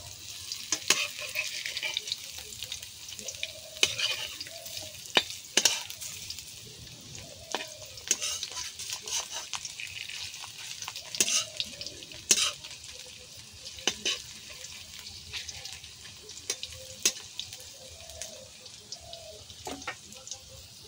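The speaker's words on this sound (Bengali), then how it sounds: "এবার চপটাকে একটু উল্টিয়ে দেবো" A Malabar spinach leaf chop fries in a pan with a steady sizzle, broken by repeated scrapes and clinks of a spatula as it is turned, close by; a voice speaks briefly over the cooking.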